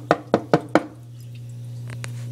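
Four quick, evenly spaced knocks strike an amphibian enclosure up close over a steady low hum, followed by a couple of fainter taps.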